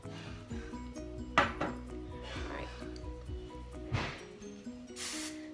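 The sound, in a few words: clanking pots and dishes from someone cooking dinner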